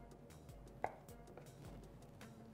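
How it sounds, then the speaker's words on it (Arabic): A knife cuts through a tomato lengthwise into slices in a home kitchen, giving one distinct crisp chop near the start followed by faint, quieter cutting taps against a board. "وهقطعها شرايح كده بالطول"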